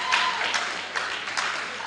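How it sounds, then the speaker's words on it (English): A second team at an annual general meeting applauds itself, steady indoor crowd clapping with a few louder bursts, somewhat thinner group, faint voices mixed in. "clap for yourself."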